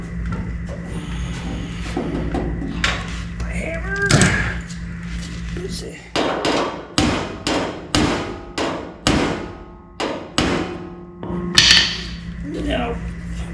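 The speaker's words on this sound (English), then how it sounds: "The hammer." A hammer beats metal on the driver's side rocker and cab corner of a 1967 Chevrolet C-10 in a garage. The ringing blows come loud and close in a steady series, with brief talk before them.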